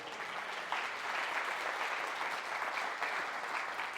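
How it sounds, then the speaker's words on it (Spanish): A church congregation claps together in a steady, sustained burst of applause, many hands blending into a dense wash that stays even for several seconds. "¿Cuántos dan una ofrenda de palmas?"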